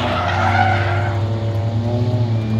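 At a drift park, a car does a burnout with loud, close tire squealing and a roaring engine, the screech strongest at first and then settling into a steady rumbling drone.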